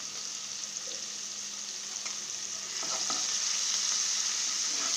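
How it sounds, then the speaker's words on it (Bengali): Spices and chopped green chilies frying and being stirred in a pan for a bottle gourd and fish curry, a continuous close sizzle with light scraping strokes, growing slightly louder toward the end, no talking. "মশলাগুলো বেশ করে একটু কষে নিতে হবে।"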